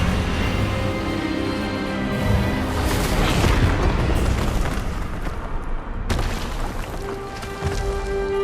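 The Expelliarmus spell blasts in the video game Hogwarts Legacy: loud, continuous booming and crackling bursts roll on for several seconds, with a sharp hit near the end and a sustained magical hum afterward.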